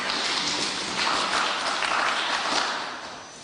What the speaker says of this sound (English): A better round of applause for Mr. Osure.